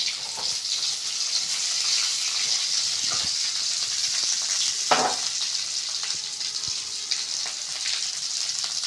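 Onions and dried red chillies sizzle in hot oil for tomato chutney, a steady close frying hiss with a few stirring scrapes and no voices.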